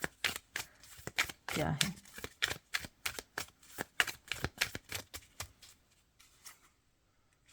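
A deck of tarot cards is shuffled and cards are drawn, giving a rhythmic series of sharp, close riffling snaps that taper off, while someone speaks briefly over them.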